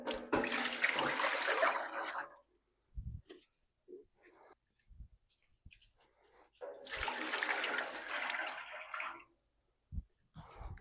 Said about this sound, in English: I've just added 8 cups of tap water in each of the pans